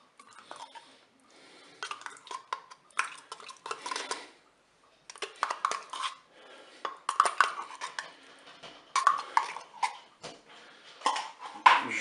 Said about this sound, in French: Je mélange tout ça délicatement.